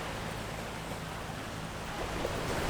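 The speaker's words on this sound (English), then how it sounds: "There's an ocean out there, even if the beach is skinny." Soft, steady wash of ocean surf at Front Beach in Vung Tau, Vietnam, a distant low roar with faint wind and no voices.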